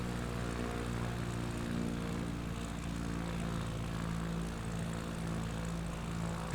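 In the MSFS 2024 video game, a CubCrafter light aircraft's engine and propeller hum in a steady, continuous drone with a throbbing low buzz, heard from inside the cockpit with no voices.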